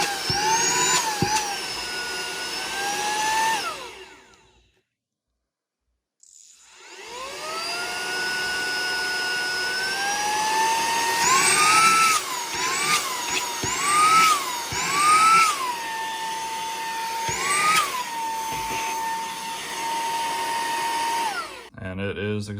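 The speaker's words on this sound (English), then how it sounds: "And then the car vacuum itself." A cordless handheld car vacuum cleaner switching on with a steady motor whine that pitches up and down, stopping briefly then running again close by, alone without talk.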